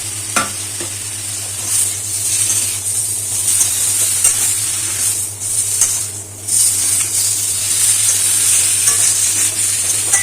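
Chicken with carrots and potatoes sizzling in a hot pot while being stirred, a steady close frying hiss with occasional scraping of the spoon, continuous throughout.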